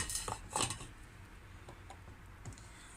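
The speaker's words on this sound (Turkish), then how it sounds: "Şimdi bunu da hemencik alıyorum. Tencereme yerleştiriyorum." A glass jar of fruit compote clinks against a metal cooking pot as it is placed in, a couple of short knocks and scrapes close by, then quieter handling sounds.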